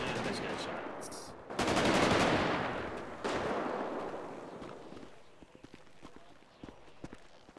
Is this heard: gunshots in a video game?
yes